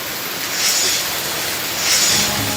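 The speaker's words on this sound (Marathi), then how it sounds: "दुपारनंतर पावसानं हजेरी लावली आहे" Rain falls in Sangli with a steady, dense hiss that swells slightly twice, heard close and without voices.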